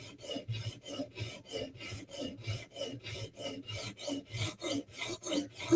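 A blade edge is drawn over a sharpening stone in steady, even rasping strokes, about three per second, close and clear with no talk.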